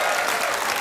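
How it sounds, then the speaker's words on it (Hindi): Loud, steady applause from a studio audience on a Hindi comedy talk show, dense clapping filling the whole short moment without a break. "जोरदार तालियां इसके लिए"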